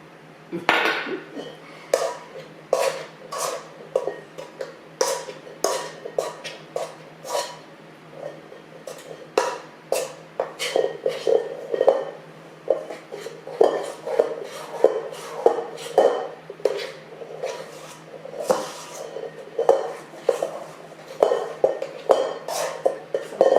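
Utensil clinks and scrapes against a bowl as cream cheese is worked into butter and sugar for a strawberry cream cheese pie, a steady irregular stream of close, moderately loud knocks and taps with no talk.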